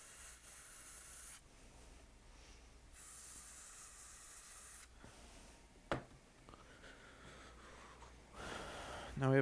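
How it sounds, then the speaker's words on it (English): Contact cleaner sprayed from a can onto a laptop logic board to remove flux: several hissing aerosol bursts of a second or two each, close and fairly quiet, with a muffled voice at times. "so I'm gonna give that a quick blast of contact cleaner to get rid of that"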